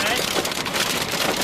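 Hail pelts down during a severe storm while storm chasers drive, a dense, loud, continuous patter of hits on the vehicle with voices underneath.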